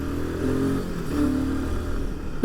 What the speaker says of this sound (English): it loves to be revved and be on the higher RPMs, and that's how I like to ride a motorcycle